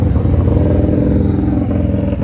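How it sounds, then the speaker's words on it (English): Motorcycles roaring past close by, a loud, steady engine rumble that holds throughout. "Why is it every time I put the phone on, bikes have to go by lately?"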